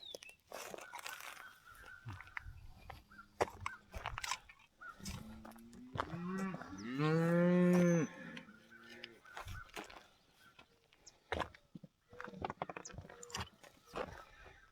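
A cow on a farm lets out a single drawn-out moo in the middle, set against quiet outdoor rustling, scattered knocks and faint footsteps.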